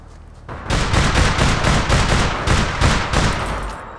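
Rapid bursts of automatic gunfire in the shooter game APB Reloaded, loud and close, with repeated cracking volleys in quick rhythmic succession over about three seconds before tapering off.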